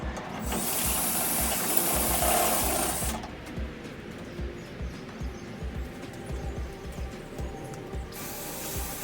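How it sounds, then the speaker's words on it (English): A step drill bit whirs loudly with a high metallic whine widening holes for a spoiler install on a 2015 Ford Mustang GT, then a steady rattling grind continues before the whine briefly returns. "Continuing to do the other holes with the stepper bit. As you can see right here, widening them out."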